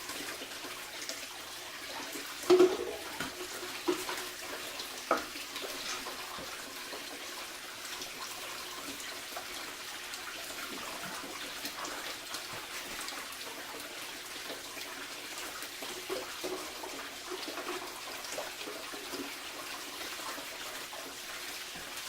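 Water running through a GoldHog Piglet gold sluice box, a continuous rushing trickle with a few louder splashes and clatters as material is dumped in.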